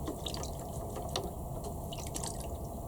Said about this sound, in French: Je rince directement mon pinceau pour pouvoir poser le rose.